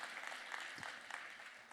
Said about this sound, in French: On peut les applaudir une nouvelle fois pour cet argent.